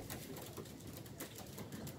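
Racing pigeons inside a loft, soft cooing and rustling close by, faint and continuous with no voices.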